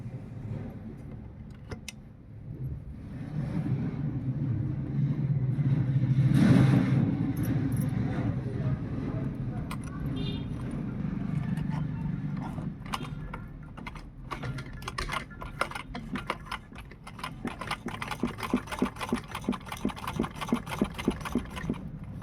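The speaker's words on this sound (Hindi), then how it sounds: "अब हम इस गले को मशीन से सिलाई लगाएंगे, कुछ इस तरह से अटैच करेंगे इस गले को" Sewing machine stitching a buckram-backed neckline onto a peplum kurti, a faint hum early on giving way to rapid, close, rhythmic ticking bursts of stitching.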